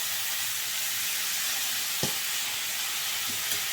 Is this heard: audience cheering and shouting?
no